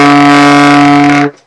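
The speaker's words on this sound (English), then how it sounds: "then your B is just the 1 fingering, so it'll sound like this" A single sustained B on a baritone saxophone, a low reedy tone held steady for over a second and then cut off cleanly, played alone and close.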